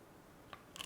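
Two short, crisp crunches from biting into a chocolate-coated vegan frozen pop topped with salt and peanuts, close and fairly faint over a quiet background, the second bite a little sharper.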